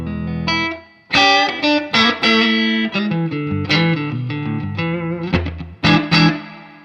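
Guitar played through a vintage Boss DM-3 analog delay pedal with the echo set low, a run of distorted chords and notes whose short repeats trail faintly behind each phrase, loud and close.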